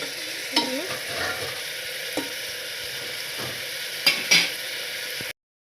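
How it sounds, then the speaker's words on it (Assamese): Garlic and ginger frying in a pan, a low steady sizzle with a few sharp stirring scrapes and clicks, two of them close together near the end, then sudden silence. "অলপমান লৰাই ভালদৰে সিজিবলৈ দিওঁ"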